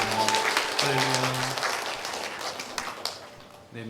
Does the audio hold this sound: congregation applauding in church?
yes